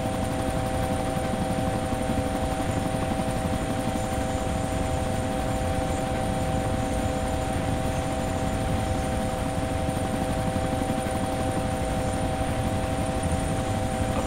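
Helicopter in the DayZ Epoch mod, a steady, loud rotor and engine drone holding constant for the whole stretch with no breaks and no voices.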